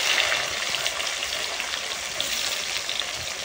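Chopped onion and tomato frying in hot oil with cumin, bay leaf and dried chilli, a dense, even, close crackling sizzle that holds steady the whole time, with no voices.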